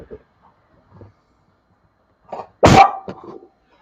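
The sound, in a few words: dog barking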